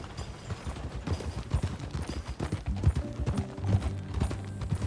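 Horse hooves clip-clop steadily at a riding pace in Red Dead Redemption 2, close and clear over faint ambient background, with no talking.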